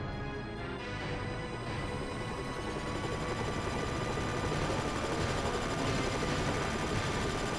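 Helicopter rotors spinning up for takeoff in the video game Front Mission 3, a loud, steady mechanical drone with a rising whine, continuous and alone with no talk.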